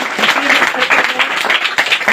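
Dense, loud applause from a classroom of students, continuous and close, a steady wash of many hands clapping together.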